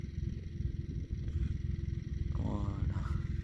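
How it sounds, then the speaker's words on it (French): A Massey Ferguson 3630V tractor pulls a disc harrow between vineyard rows, giving a close, steady diesel rumble with clattering from the discs and a brief whining rise near the end. "Avec le tracteur, avec le Massey Ferguson 3630V."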